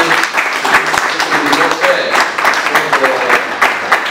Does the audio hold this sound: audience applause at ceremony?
yes